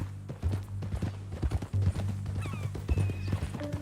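Horse hooves clip-clopping at a steady walking rhythm in the Red Dead Redemption 2 video game, fairly close, with a low hum and faint whinnying-like tones beneath, no talk.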